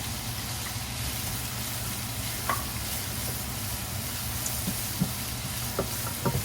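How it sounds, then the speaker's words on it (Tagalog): Celery stir-fried with sausage in a pan, a steady close sizzle with occasional soft scrapes and taps of the spatula. "Halo na rin natin itong celery natin."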